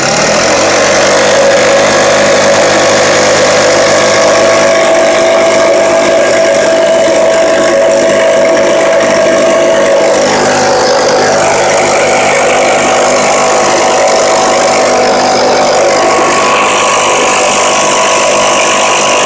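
A small carbureted engine, just given a high-speed mixture screw adjustment on its carburetor, screams at around 6000 rpm, holding a loud, steady high-pitched whine with slight pitch shifts and no voices.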